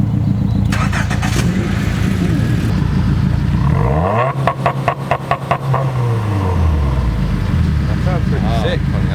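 A Toyota car engine starts, then revs up and settles back down, loud and close, with people talking over it.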